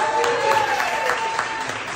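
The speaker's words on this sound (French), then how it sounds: "On va vous inviter à applaudir pour commencer le show, s'il vous plaît, mesdames et messieurs." An audience claps at the start of a live podcast show recorded at a festival, a short burst of fairly close, steady applause with some tonal sound mixed in beneath it.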